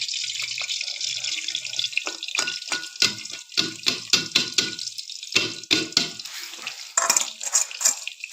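Tempering spices sizzling in oil for mustard greens cooked in a pressure cooker, a close hiss punctuated by rapid rhythmic scraping and clinking of a stirring spoon.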